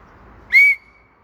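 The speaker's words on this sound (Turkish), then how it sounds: "Düdük, düdük çal." A single short, shrill whistle blast lasting under a second, loud and close, during an informal basketball game at a hoop, with faint background noise before and after.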